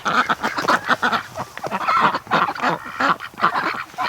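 A flock of wintering ducks and geese honk and quack outdoors in a dense, overlapping chorus of loud, close calls with a steady, choppy rhythm and no talking.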